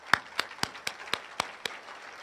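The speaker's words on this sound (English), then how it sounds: "let's give the team in the back of the room a round of applause for their support tonight." Applause at a banquet comes as a short run of evenly spaced single claps, fairly close and moderately loud, with a faint roomy wash behind them.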